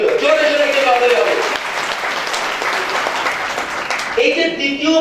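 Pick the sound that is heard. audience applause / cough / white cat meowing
audience applause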